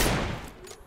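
Burst of gunfire in the battle-royale game PUBG Lite, a dense loud volley at the start that thins and fades over under a second, with no talk.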